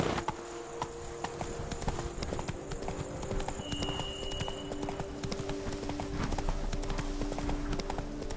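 Roach, the horse in The Witcher 3: Blood and Wine, trots along with a steady, brisk clip-clop of hooves over a game soundscape, with a faint tone lingering in the background.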